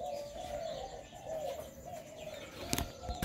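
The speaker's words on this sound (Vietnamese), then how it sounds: "Cặp này nó gáy một hậu ra chiêu gù." Caged doves cooing, soft rolling coos repeating in a slow rhythm, fairly faint, with a brief rustle or flutter near the end.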